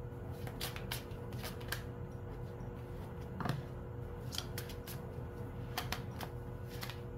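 Tarot reading cards being shuffled in a steady run of soft riffling clicks and flutters, close and fairly quiet over a low hum, with a slightly louder snap midway.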